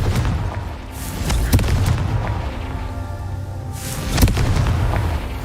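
Confringo explosion spell cast in Hogwarts Legacy, two heavy booming blasts a few seconds apart over a steady rumbling game backdrop.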